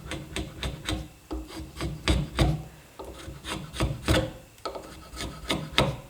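Small handmade drawknife shaving wood with the bevel down, close rasping scrapes in a steady rhythm of short strokes, dry and gritty, almost like scraping.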